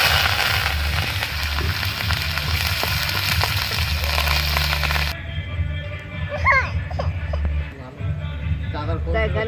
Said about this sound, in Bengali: এখানে আমি সর্ষে দিয়ে দিলাম, কারি পাতা দিয়ে দিচ্ছি।